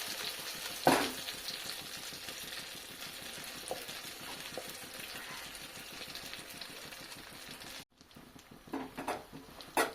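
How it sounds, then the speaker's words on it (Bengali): Chickpea lentil paste fries in ghee and is stirred, giving a quiet, steady sizzle with scraping stir strokes. A sharp clatter comes early, a brief gap follows near the end, and a few louder utensil knocks close it. "অনবরত এটা নাড়াচাড়া করে ভেজে নেব বেশ কিছুক্ষণ"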